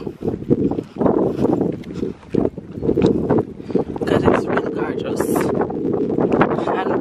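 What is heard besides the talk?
wind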